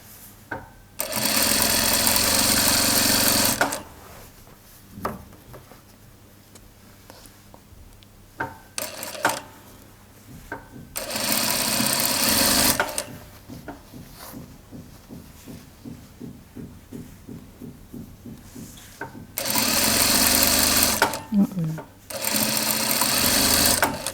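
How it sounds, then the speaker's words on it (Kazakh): A sewing machine stitching a hoodie runs in several loud, close bursts of rapid whirring, separated by quieter pauses with faint ticking and handling noises, no voices. "Осылай тартып тігіп отыру керек."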